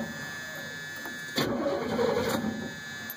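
A V8 engine cranks and catches during a compression test, a short burst of starter churning that swells into a close, rough turnover before fading.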